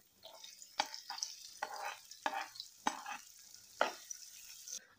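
Garlic and onions sizzle steadily in a hot pan with a soft hiss, broken by several sharp scraping clicks from stirring at irregular intervals.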